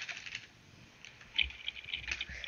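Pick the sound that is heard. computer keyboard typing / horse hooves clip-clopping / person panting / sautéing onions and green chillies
computer keyboard typing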